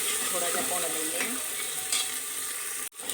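Tomatoes and green onion leaves sizzle steadily in a frying pan over lightly browned onions, with a dense hiss and faint stirring clatter throughout, broken by a brief drop near the end.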